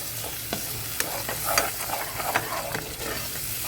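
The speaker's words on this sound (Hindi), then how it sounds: "हम इसको लगातार चलाते रहेंगे ताकि दही हमारा फटे ना" Chole masala with yogurt and black pepper stirred continuously in a pan over low heat, a steady gentle sizzle broken by repeated close scraping and clinking spoon strokes, with no talking.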